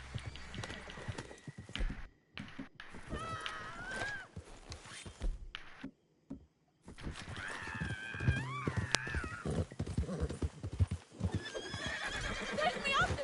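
In the video game Red Dead Redemption 2, a horse neighs and whinnies over clip-clopping hooves, loud and close, with brief dropouts, while a person talks over much of it.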